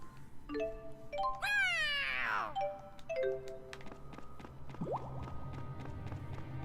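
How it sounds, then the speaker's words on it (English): A cat in the Tales of Xillia 2 video game meows several times, with one long rising and falling call in the middle and shorter calls around it, moderately loud over soft game background sound and a low steady hum. "Oh, we got Nano the cat."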